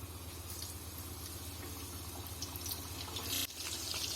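Chicken deep-frying in oil on a medium flame gives off a steady, close bubbling hiss, continuous and moderately loud with a brief louder burst near the end and no voices.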